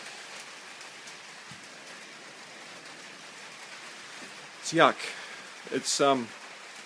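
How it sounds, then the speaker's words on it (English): Steady rain falls in a Wellington summer, a constant soft hiss of drops on surfaces close by, with a person speaking briefly over it near the end. "You can hear the rain."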